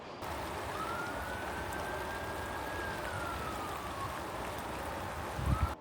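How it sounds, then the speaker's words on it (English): Rain and hailstones fall during an outdoor walk toward Chandlers Ford, making a steady, even hiss. A faint wailing siren drifts past in the distance. "during this walk I have been battered by hailstones"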